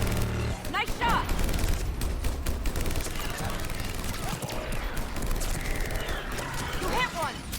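Gunfire crackles through a Mass Effect 3 battle as bursts of fusillade-style shots, with mechanical weapon clatter and game effects layered throughout, under a steady dense mix of combat noise.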